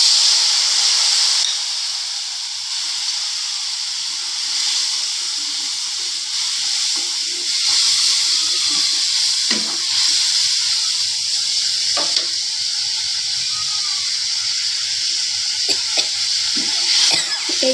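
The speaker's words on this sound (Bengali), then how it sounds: "এটাকে 2-3 সেকেন্ডের মতো ভাজবো। দিয়ে দেব তার মধ্যে জল।" Turmeric and chili powder fry in hot oil for a mustard hilsa curry, then water goes in, giving a steady, loud sizzling hiss with occasional scraping stirs throughout.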